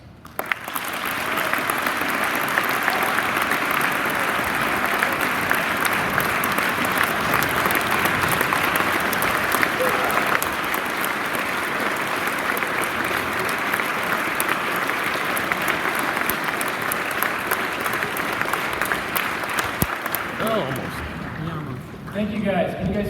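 A school assembly audience gives sustained loud applause and cheering throughout, a dense wash of clapping from a large crowd that fades near the end.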